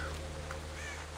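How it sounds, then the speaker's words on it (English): Crows caw in a dark stealth game setting, a single faint call rising briefly above a steady low ambient hum, with the distant birds sounding thin and quiet. "I really do not like these crows"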